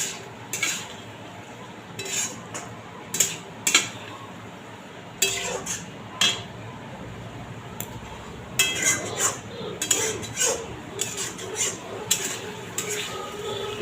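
Potatoes and pointed gourd sautéed with spices in a pan, with a metal spoon scraping and clinking against the pan in irregular close strokes over a faint background sizzle.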